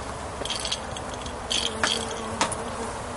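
A steady hum of buzzing honeybees fills the air during a honey harvest at an apiary, with occasional louder passes as individual bees fly close by while frames are removed from full supers.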